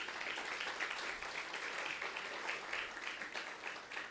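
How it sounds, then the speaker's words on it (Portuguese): A church conference audience breaks into sustained applause, a dense, even wash of many hands clapping that fills the room at constant loudness throughout. "Você pode aplaudir ao Senhor?"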